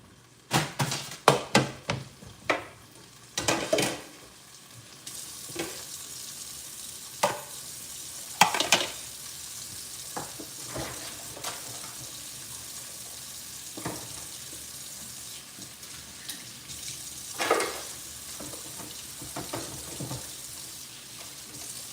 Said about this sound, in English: let's finish sauteing